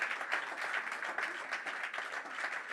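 A church congregation applauds together to acclaim the Lord, a steady, dense wash of clapping held at an even level throughout.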